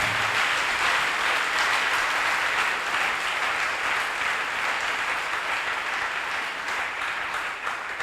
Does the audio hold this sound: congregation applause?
yes